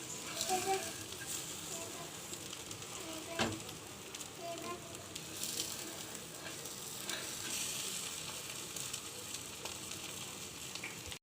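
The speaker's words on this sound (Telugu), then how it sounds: "ఇప్పుడు నేను అండి పచ్చి బ్రెడ్ని వేయించుకుంటున్నాను" Raw bread frying in a pan for an Indian-style bread omelette, giving a steady soft sizzle with faint stirring and scraping, close and moderately quiet, with no talking.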